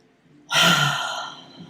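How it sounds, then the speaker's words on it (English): A single deep inhalation taken during a guided breathing exercise, a strong breathy rush starting abruptly and tapering off over about a second, close to the microphone with no talk over it. "So we're going to just take a deep breath."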